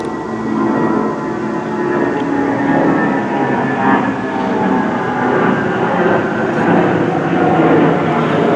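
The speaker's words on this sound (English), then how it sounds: "It was a nice flyover. Joys of living near an airport." A plane passes overhead near an airport with a broad, loud roaring rush that swells and holds steadily for several seconds, heard outdoors beside a 2006 Toyota Tundra pickup.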